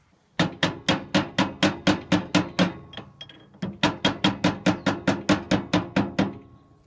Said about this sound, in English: This bearing is a pressure fit, and I needed to tap it to get it off of here.